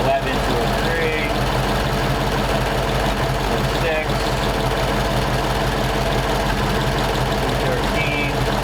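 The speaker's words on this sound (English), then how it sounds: "This is every flathead owner's nightmare, sitting just idling with no fan in traffic" Ford flathead engine idling with no cooling fan, a steady low mechanical rumble running throughout with someone talking over it.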